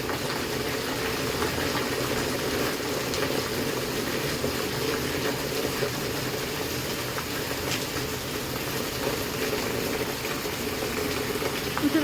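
Strongly flowing rainwater in a channel during heavy rain, a loud continuous rushing wash that holds steady throughout with no clear talking.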